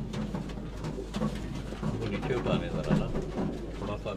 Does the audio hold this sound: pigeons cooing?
yes